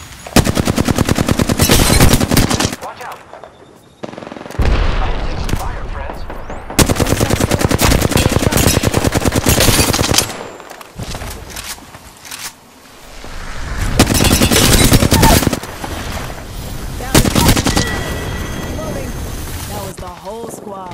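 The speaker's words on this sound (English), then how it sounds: "I am taking fire." Apex Legends gunfight: loud bursts of automatic weapon fire come in repeated volleys separated by short lulls, with in-game voice callouts spoken between the shots.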